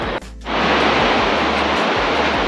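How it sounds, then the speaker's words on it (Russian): A river rushes past near the Kern River hot springs, a loud steady broadband wash of flowing water that swells up after a brief quieter moment at the start. "Вот речка бежит."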